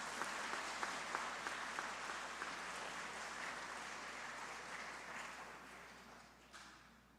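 Applause from the audience at a student art award ceremony, a broad wash of clapping that holds steady at first and then slowly thins and fades toward the end, with no talk over it.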